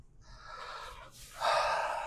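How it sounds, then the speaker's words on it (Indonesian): A single deep breath drawn in and let out, soft at first and then a louder, rushing exhale, close and alone with no talking, during a calming moment for stress and bad mood. "ambil nafas"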